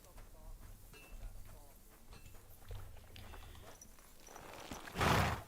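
A black horse's hooves clop along at a steady walking pace in the video game Kingdom Come: Deliverance II, fairly quiet, with soft talk-like sounds underneath and a loud burst of noise near the end.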